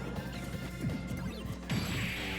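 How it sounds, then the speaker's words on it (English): A Peach forward smash lands in a Super Smash Bros. tournament match, a sharp crash-like hit among layered game effects and music, with a second burst of impact noise near the end, no talk. "Oh, he forward smashed. He forward smashed the wrong way."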